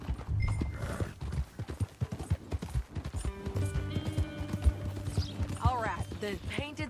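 Horse hooves clopping at a steady rhythm in Red Dead Redemption 2, close and clear, with horse snorts and a whinny near the end over a soft layer of game ambience.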